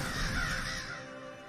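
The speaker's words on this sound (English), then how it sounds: "I don't know why there'd be a bunch of crows or ravens down there." Crows or ravens caw in a cellar scene of the video game The Last Door, harsh calls blended into a dense, hissing ambient backdrop that fades slightly toward the end.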